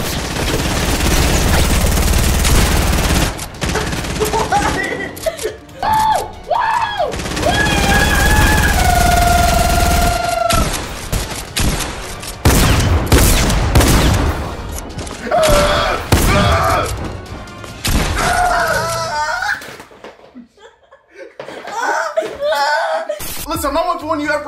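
Rapid bursts of Fortnite gunfire crackle through a PS5 match, played loud and sustained under two people talking and laughing throughout.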